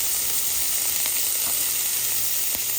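Onions and peppers fry alongside Spam in a pan, giving a steady, close sizzle and hiss with a few faint clicks, no voices.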